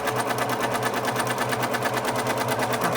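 Close, loud sewing machine running steadily, its rapid even needle rhythm stitching thermal blackout curtain fabric for a motorhome, with no talk over it.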